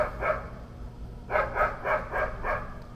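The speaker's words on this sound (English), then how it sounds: "Those aren't my dogs, so I can't tell them to stop barking." Dogs bark in a quick run of five or so sharp barks after a single earlier bark, moderately distant with steady background noise.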